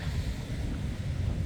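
Strong wind buffets the microphone at a seaside harbor, a dense, low, continuous roar with gusty fluctuations and no voices.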